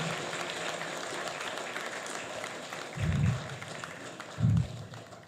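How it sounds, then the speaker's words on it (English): Auditorium applause from a conference audience at a manufacturing event, a broad, even wash of many hands clapping at moderate distance, with two brief low thumps partway through. "Let's give him the biggest applause that we've seen or heard in this auditorium."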